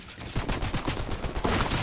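Rapid bursts of gunfire from the video game Fortnite, loud and continuous with a quick rhythmic crackle across the short stretch.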